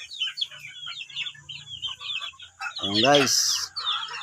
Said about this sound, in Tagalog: Ayan po, tayo nagpapakain ng sisiw, mga lods.